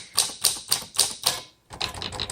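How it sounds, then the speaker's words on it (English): Typing on a 1946 Smith Corona Silent Speedline manual typewriter, five crisp evenly spaced keystrokes, up close, then a brief pause and a faster, softer run of key clatter. "These keys are so light. This requires a light touch. No heavy hand necessary on this typewriter."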